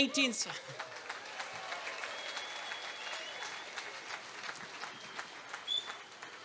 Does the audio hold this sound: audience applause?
yes